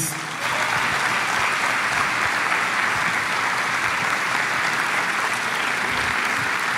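A church congregation applauds in sustained, dense clapping at a steady level throughout, broad and enveloping like a full hall.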